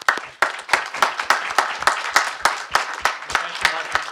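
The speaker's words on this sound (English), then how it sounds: "So maybe those three get a round of applause." A smallish seminar audience claps in a room: distinct, separate hand claps in a loose, fairly quick rhythm, close and clear rather than a dense roar, continuing for a few seconds.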